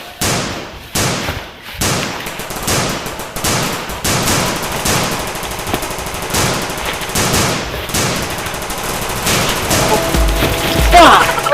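Bursts of gunfire in a Sundanese war comedy scene set against Dutch colonial forces, sharp repeated shots and volleys fired in quick rows with thuds, loud and continuous, with a voice heard among them.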